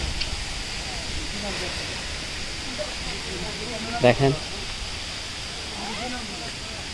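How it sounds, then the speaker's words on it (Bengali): Double Falls waterfall near Ruma, Bandarban roars as a constant broad hiss heard from nearby, steady throughout, with a brief spoken voice over it midway. "ইতিমধ্যে হয়তো আপনারা সাউন্ড শুনতেছেন, ঝর্ণার খুব আওয়াজ।"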